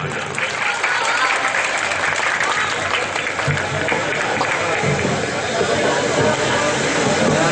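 Steady, dense audience applause at a ghazal evening mushaira, welcoming the poet Kawish Rudaulvi to the microphone, continuing evenly throughout at close, full volume.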